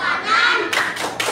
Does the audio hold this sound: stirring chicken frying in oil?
no